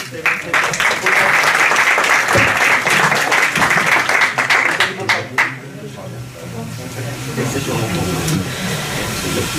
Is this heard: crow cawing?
no